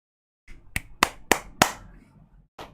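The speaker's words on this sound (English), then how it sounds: "And why does she clap like that?" Four sharp hand claps in quick, even succession, then a fifth clap after a short pause; close and crisp.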